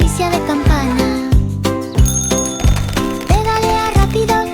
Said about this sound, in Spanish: El timbre hace ding, ding, ding, ding, ding, ding, ding.